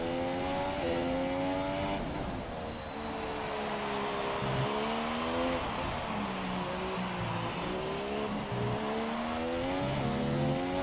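A race car engine drones steadily through the whole stretch on a circuit in a racing video game career mode in Spain, its pitch rising and dipping with gear changes, continuous and loud with no talk.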